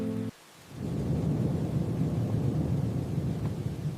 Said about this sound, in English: The rain is very loud now.